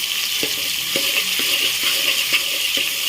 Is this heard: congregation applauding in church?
no